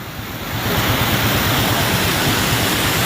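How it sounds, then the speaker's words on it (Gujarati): Water rushing continuously across a river crossing, a loud, steady, broad roar with no pauses and no voices. "સવારે 7 વાગ્યાથી લઈ અને કન્ટિન્યુ આ પાણી ચાલુ છે."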